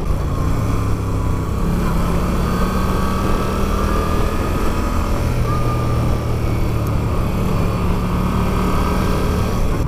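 Moto Guzzi motorcycles riding winding roads in Tuscany, a loud, constant engine drone heavily blended with rushing wind noise throughout.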